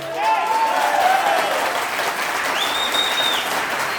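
Applause from a charismatic church congregation fills a worship gathering, steady dense clapping mixed with raised voices and cheers rising over it.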